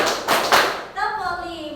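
Students clap in a counting clap game in a classroom, with two or three sharp, close hand claps followed by a voice speaking.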